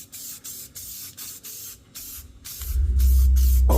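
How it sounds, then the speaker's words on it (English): An aerosol can sprays black paint onto car brake parts in short hissing bursts, then a low rumbling roar swells in near the end, all close with no talking. "And while we're at it, we're gonna spray paint them yellow."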